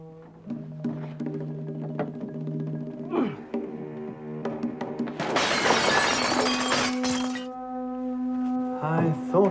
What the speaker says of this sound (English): Forcing the frosted glass door was a ridiculously simple matter for a man of von Moldrick's talents.